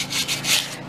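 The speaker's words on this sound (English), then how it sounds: "We are sanding his rims so he can paint them." Car rims being sanded by hand, getting into the crease; a brief, close, steady scratchy rubbing with short back-and-forth strokes, with no voices.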